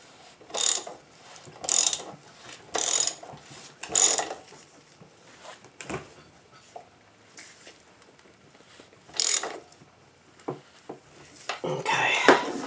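Ratchet tightening the rear wheel nut on a 2024 X-Pro Storm 150 DLX motorcycle, four quick clicking bursts, a pause, then more clicks and metallic tool handling nearby, without speech.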